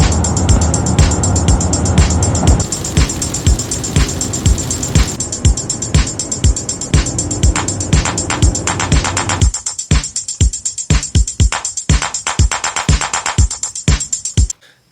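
A car drives along a road on the way to a campground, giving a close, steady engine and road rumble with repeated rhythmic thumps. Partway through, the low engine drone drops away.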